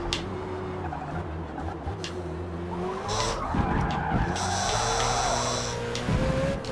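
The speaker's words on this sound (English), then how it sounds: "Let's stamp on the brakes." Car braking hard and skidding in the Forza racing game at Le Mans, with tires squealing over a steady engine drone and a rising skid noise through the middle, loud and continuous.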